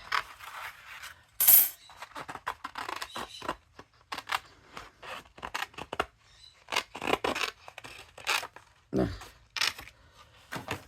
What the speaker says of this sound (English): I do want to try to cut these both out at the same time